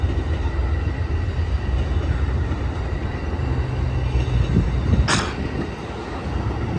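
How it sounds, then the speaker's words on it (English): An Amtrak California Zephyr passenger train rolls slowly past nearby, a steady low rumble of wheels and cars with a brief bright squeal near the end, no voices. "there go that train"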